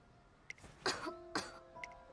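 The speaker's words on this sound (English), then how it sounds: "Why are you coughing?" A person coughs and clears their throat in two strong, close bursts with a few fainter catches around them, heard alone without speech.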